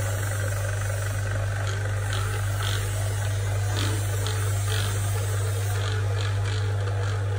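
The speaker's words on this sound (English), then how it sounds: "Open vacuum pump." Steady, loud mechanical hum of a vacuum pump on a mini vacuum powder mixer used for plaster mold making, running continuously with a strong low drone and broadband whir.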